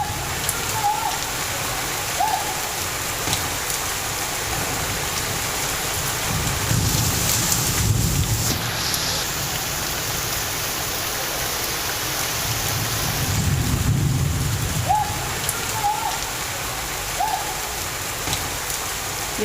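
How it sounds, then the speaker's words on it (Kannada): Heavy rain pours steadily during a thunderstorm with lightning striking coconut trees, while two deep rolls of thunder rumble through the downpour several seconds apart. "ನಿನ್ನೆ ಗುಡುಗು ಮಿಂಚು ಸಹಿತ ಮಳೆಯಾಗಿದೆ."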